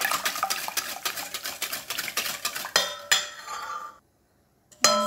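Milk being stirred into a cream mixture in a metal pot, a quick rhythmic clinking of a utensil against the pot, then a few slower scrapes, a brief silence and one last clink.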